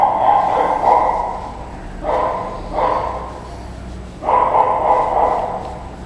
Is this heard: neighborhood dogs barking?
yes